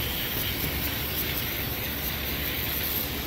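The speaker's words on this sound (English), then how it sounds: "I'm going to spray it out real good." A steady, close hiss of aerosol spray onto a reloading press bushing runs continuously without pause, broad and even throughout.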